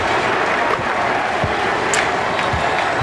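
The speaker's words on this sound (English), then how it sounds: "The crowd chanting its appreciation of Jason Kidd with the MVP mantra here." At the 2002 NBA Finals game between the New Jersey Nets and the LA Lakers, a large arena crowd roars and chants for Jason Kidd, a dense, loud sustained wall of voices with scattered claps and a few bounces.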